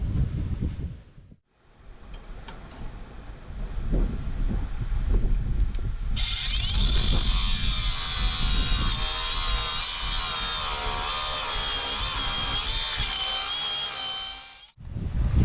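A power tool grinds steadily through metal bolts, its whine rising into a high, sustained screech partway through, loud and continuous for most of the clip.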